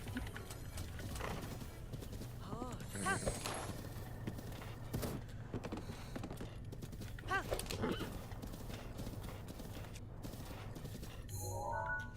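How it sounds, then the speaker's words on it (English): Horse hooves clip-clop at a steady walking pace in the video game Zelda: Breath of the Wild, over a low, constant background hum, with some faint clanks and rustles. "Oh wow, my horse is already here."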